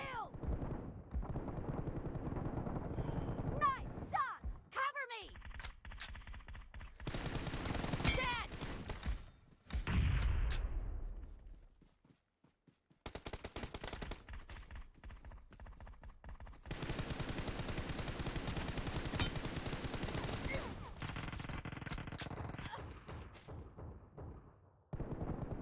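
Gunfire in the PUBG Mobile video game, including Uzi bursts: rapid automatic shots in dense rattling bursts with short gaps and a near-silent pause midway, with game sounds and voices talking over it.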